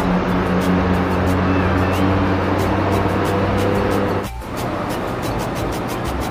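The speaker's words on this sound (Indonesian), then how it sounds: "Dan akhirnya bus Jaya pun berangkat menuju arah Surabaya." A Jaya bus pulls out of the Anjuk Ladang bus terminal, its engine rumbling steadily nearby with a low drone that drops away abruptly partway through, leaving a busy terminal hum.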